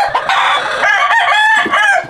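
A rooster, a grey fowl of the Clements line, crows loudly and close in one long drawn-out call that fills the whole moment, with no talk over it.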